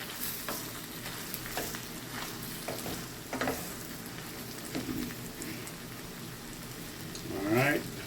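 Shrimp frying in a pan and being turned make a soft, fairly quiet sizzle broken by scattered clicks and scraping taps, with a brief voice near the end.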